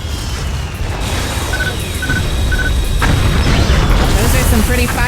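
Explosions of destroyed spaceships in the space combat game Freespace 2 rumble in a dense, loud, continuous wash of blasts and crackles, with short electronic beeps and tones layered through the din.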